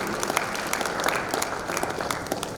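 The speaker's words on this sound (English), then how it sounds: "Please a round of applause for Mr." Steady, dense applause from an audience at a quantity surveyors' annual assembly, greeting the President after a welcome address; a sustained wash of clapping without breaks.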